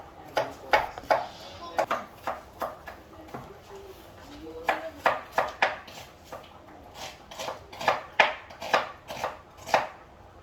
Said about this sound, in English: You see I was cutting my onions.